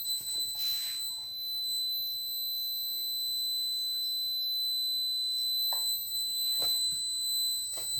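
The alarm buzzer on a Raspberry Pi Pico wearable safety device sounds as a continuous high-pitched electronic tone held for the full length, close and steady, with a few faint clicks and handling noises underneath.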